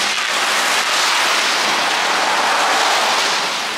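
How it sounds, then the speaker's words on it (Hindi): Steady, loud rain pours down without pause over a flyover near the swollen Ramganga river in Uttarakhand, a dense continuous hiss filling the whole stretch with no voices. "नॉन स्टॉप बारिश चल रही है"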